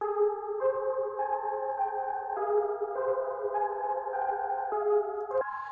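Dark, slowed-down beat built in FL Studio with Gross Beat, EQ and Pan Man panning: sustained layered synth chords stepping through changes in a steady rhythm, with a low wobbling undertone, heard alone at moderate level.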